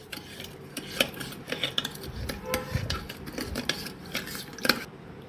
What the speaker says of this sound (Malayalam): അപ്പോൾ നമ്മൾ നല്ലതുപോലെ ഇളക്കി കൊടുത്തു.